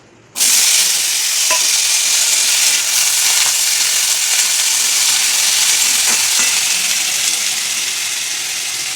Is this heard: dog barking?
no